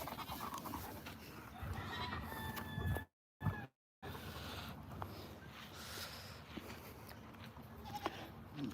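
A pet ram bleats on a farm while being petted, its calls faint and somewhat distant within a steady, noisy outdoor background.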